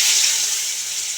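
Potatoes hit hot oil seasoned with salt and a little turmeric, raising a loud, dense hiss of sizzling that holds steady and close throughout.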